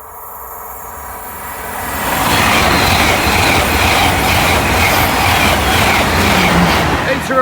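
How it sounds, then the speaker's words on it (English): A light engine of one Class 66 with two Class 70 diesel locomotives rolls through Egmanton level crossing, a loud rumbling pass with rhythmic wheel clatter building after the first couple of seconds and holding steady to the end. "Here's the second train delayed due to hitting cattle."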